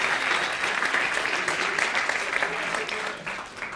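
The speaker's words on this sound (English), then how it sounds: "Could we get a round of applause just for them all" A virtual science-communication contest heat's audience applauding, a dense burst of clapping that holds steady and then tapers off slightly toward the end, with no voices over it.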